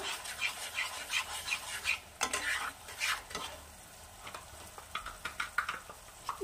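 Mustard paste sizzling in a hot pan as a spoon stirs it, with soft crackling fry noise and repeated scraping strokes, fairly quiet and close, no talk.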